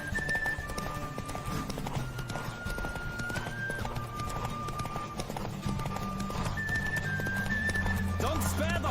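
A horse gallops at speed in The Witcher 3, its rhythmic clip-clop hoofbeats steady under game music and a voiced rider urging it on.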